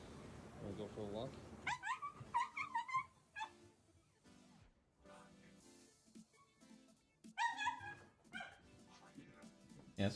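An excited dog yipping, whimpering and barking in short high bursts, close by, mixed with a person's playful talk in a home.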